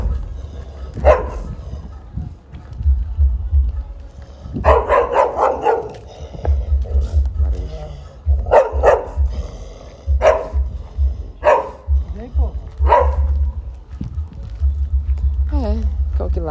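A dog barks repeatedly in short bursts and yips close by, mixed in with people talking and a low rumbling background throughout.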